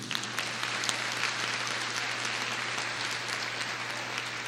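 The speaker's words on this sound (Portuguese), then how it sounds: "Quantos aplaudem o Senhor Jesus?" Church congregation applauding in praise during a service, a continuous dense clatter of many hands held at an even level throughout, somewhat distant with a low hum beneath it.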